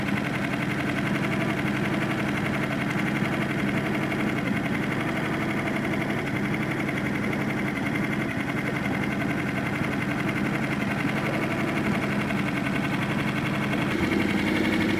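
A motor engine runs continuously at the Iskar reservoir, a steady, even drone with a faint knocking texture that holds at constant loudness throughout, with no voices.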